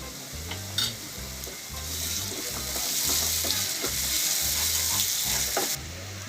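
Onions fry with ginger garlic paste in a pan for bhindi masala, a steady close sizzle with rhythmic stirring scrapes building slightly louder, no talk.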